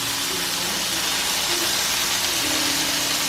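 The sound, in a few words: onions and burger patty sizzling on the grill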